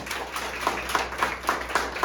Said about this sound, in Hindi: इनके लिए तालियां।